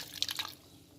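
A cup of water is poured into a mutton karahi marinade of red chili, salt and black pepper, giving a brief, soft splash and trickle that quickly fades to quiet.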